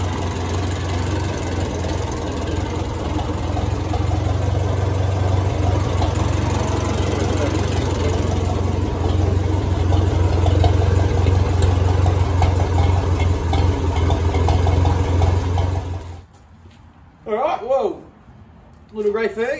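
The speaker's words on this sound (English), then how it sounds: "Little grey Fergy, it runs really well actually." A little grey Ferguson tractor engine idles steadily with a low, even throb for most of the stretch, then cuts to near quiet with a few brief bursts of talk at the end.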